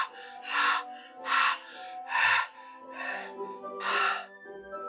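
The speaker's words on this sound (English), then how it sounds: "Oh, that was a sharp inhale, like someone is sucking in air through their teeth." In the video game Doki Doki Literature Club, several sharp, breathy inhales through the teeth come in quick succession. The evenly spaced gasps sit close and clear over a soft, sustained tonal background.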